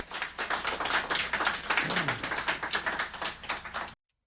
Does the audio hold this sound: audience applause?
yes